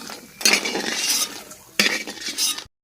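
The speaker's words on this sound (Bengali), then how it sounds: "সজনের ডাঁটার মধ্যে বড়িগুলো তুলে রেখে দিচ্ছি" Fried lentil dumplings are lifted out of a pan of hot oil, with two bursts of scraping, clinking utensil strokes over a faint sizzle that then cuts off.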